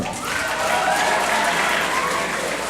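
Sustained crowd applause at a Great Neck North High School young people's concert, a thick, even wall of clapping from a large audience throughout.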